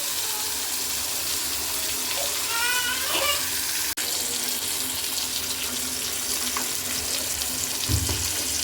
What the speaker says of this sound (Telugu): ఆల్మోస్ట్ అయితే ఫ్రై అయిపోయిందండి